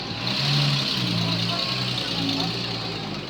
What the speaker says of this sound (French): Nous nous retrouvons avec une Jeep full équipée.